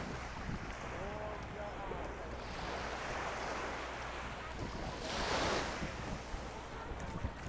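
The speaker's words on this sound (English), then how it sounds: "nice small beach" Waves wash onto a small beach at Friar's Bay, St. Maarten, a steady surf rush with wind buffeting the microphone and one louder surge midway.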